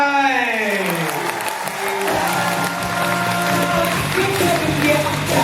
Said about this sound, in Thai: ขอสิปรบมือต้อนรับครับ